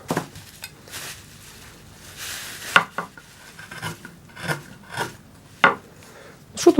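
A lathe cutting tool scrapes and cuts into a workpiece in irregular rasping strokes with sharp clicks between them, close and moderately loud, with no voices.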